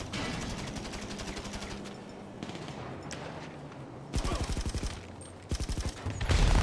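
Automatic gunfire and fireworks during a farm raid in GTA 5 ring out in rapid, rhythmic bursts, loud and close, with a brief lull in the middle before two more sharp volleys.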